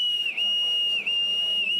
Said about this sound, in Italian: Il fischio del Nostromo